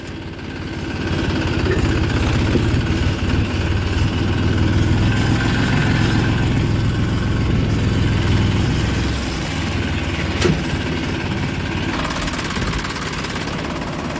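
A vehicle engine running slowly in first gear on a rainy day, a steady close low rumble that holds evenly for the whole stretch and eases slightly near the end, with no talking.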